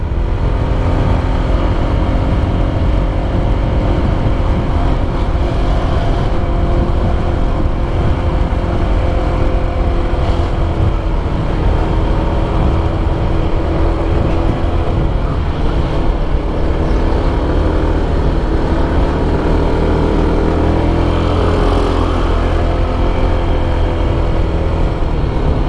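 Honda PCX 160 scooter engine working up a steep hill, a steady close drone with continuous wind rush and slight rises in load, no talking.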